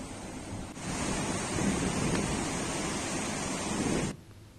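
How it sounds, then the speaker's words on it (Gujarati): Dam water rushing into a flooded river after all nine gates are opened, a loud, steady broadband roar that holds for about three seconds and then cuts off abruptly. "ડેમમાંથી પાણી છોડાતા નદીમાં પૂરની સ્થિતિ છે."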